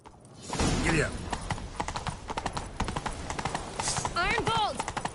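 Rapid hoofbeats of galloping horses in The Witcher clatter continuously, with a horse whinnying near the end and voices heard briefly.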